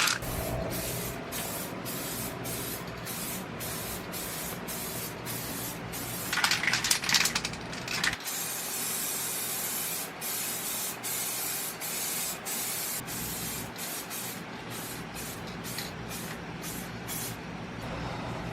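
A car is spray painted with aerosol cans: long steady hissing bursts of spray, broken by short regular pauses between strokes, with a louder rattling burst partway through and no talking.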